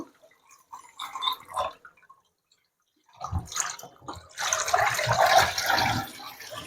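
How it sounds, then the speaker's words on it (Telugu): Water splashes and sloshes as chicken pieces are rinsed by hand, with a pause in the middle and then a louder stretch of steady running, splashing water. "చికెన్ పీసెస్ని ఇలా బాగా వాష్ చేయాలండి."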